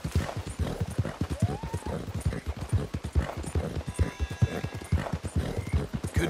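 Horse hooves clip-clop steadily along a trail in Red Dead Redemption 2, a brisk, even gait close by, with a brief whinny-like tone and someone speaking softly over the hoofbeats.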